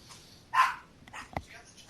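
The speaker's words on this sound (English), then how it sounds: "Random barking." A dog gives a couple of short barks indoors, a louder one followed by a quick sharper yip, standing out over quiet room tone during a toy-talk conversation.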